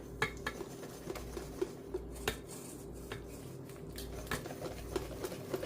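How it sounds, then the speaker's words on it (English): Popover batter being whisked in a mixing bowl, the whisk clicking and tapping against the sides in a steady, busy rhythm with light scraping, close and moderately quiet. "Now we're just gonna whisk this up till we have all the flour incorporated."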